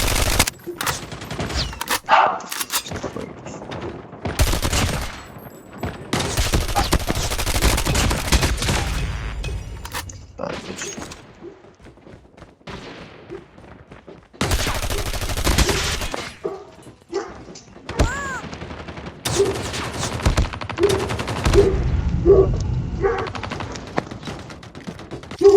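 Bursts of automatic gunfire and single shots in Call of Duty Mobile during a tournament match, loud and repeated in clusters with short gaps, with some game noise between volleys.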